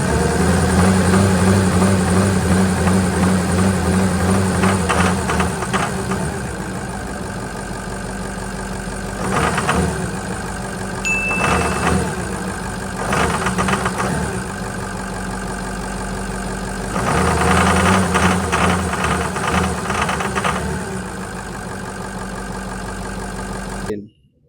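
A Ford 6.0 diesel idles roughly up close, a loud steady rumble with knocking and surging swells, before cutting out at the very end.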